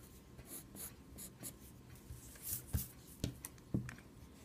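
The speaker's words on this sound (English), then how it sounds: "And now I'm just going to erase all the guidelines that we made." A pencil eraser rubs across paper to remove drawing guidelines, close and soft, in irregular scrubbing strokes that grow sharper and more distinct toward the end.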